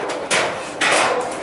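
Hammering at a construction site by the Pacific coast: two sharp, loud blows about half a second apart, each ringing briefly over a steady outdoor background.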